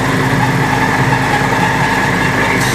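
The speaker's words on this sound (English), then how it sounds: "The squawking on the noise you hear is the bushing on the end." Running silo unloader during silo filling, its brass end bushings squawking over a steady, loud mechanical engine-like drone that holds constant throughout, with no talk.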